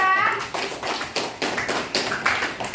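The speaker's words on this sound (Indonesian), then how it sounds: "kita beri tepuk tangan untuk kelompok 2." Scattered handclaps from a small group of students in a classroom, irregular and fairly close, lasting a few seconds with no talking.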